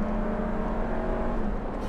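A 2017 Toyota Land Cruiser with a 300 hp V8 pulls at full throttle, its steady engine drone and whir sounding close and continuous, with no voices over it.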